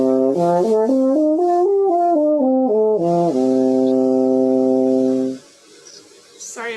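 A French horn plays a lip slur starting on low G, smooth sustained tones stepping up and down in a connected series, then holding a long note before cutting off to faint room noise.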